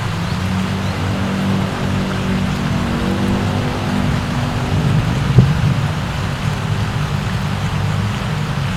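Steady rain falls at a fishing pond, a dense even hiss with low rumble throughout, one brief louder knock near the middle, no talk.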